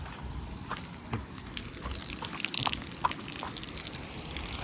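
Steady broadband rushing of a flowing river, moderately loud and continuous, with faint trickling detail on top.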